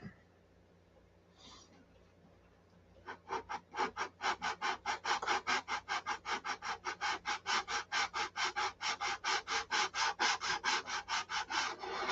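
Hand sanding with plywood and filler work nearby, a fast regular back-and-forth rasping stroke that starts after a few seconds and continues in even rhythm, close and clear.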